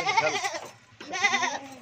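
A goat bleats twice in quick succession, close and loud, as goats with kids are loaded onto a cargo truck in Okara.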